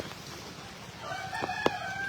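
On a rainy day in a Bangladeshi village, faint background clucking of chickens and ducks, then a rooster's crow rises near the end, fairly distant, with no talking.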